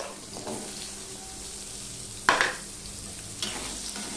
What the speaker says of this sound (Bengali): এবার যা তেল আছে তার মধ্যে আমি আলুটাও ভেজে নেব।